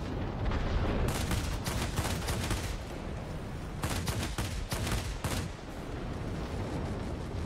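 Aircraft guns in the World of Warplanes air-combat game fire in dense, rapid bursts, loud and close, with repeated volleys over a continuous engine roar and no talking.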